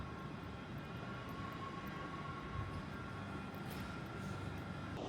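An LNER Azuma train standing at a station platform: a low, steady rumble and hum with a faint tonal whine, distant and quiet throughout.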